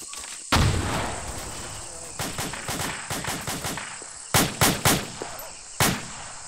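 Shotgun blasts in a combat video game boom close and loud: one big shot, then a rapid string of lighter shots, and a tight cluster of heavy blasts near the end.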